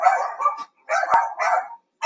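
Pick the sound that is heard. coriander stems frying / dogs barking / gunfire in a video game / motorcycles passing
dogs barking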